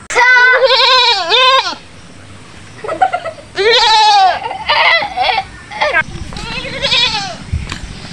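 A goat bleats loudly and close by in several wavering calls spread across the stretch, with people talking and arguing in between.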